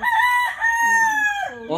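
Young roosters (stags) crow close by on a farm in drawn-out, wavering calls, one after another, filling the short moment.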